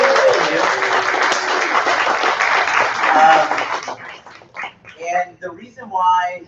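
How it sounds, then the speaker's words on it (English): An audience applauds the employees, a loud, dense round of clapping for about four seconds before it fades and a voice begins speaking. "a round of applause for them"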